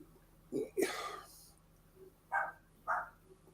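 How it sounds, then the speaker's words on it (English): A dog barks indoors in a few separate sharp bursts, fairly distant and faint, with quiet talk nearby between barks. "the dog is barking again"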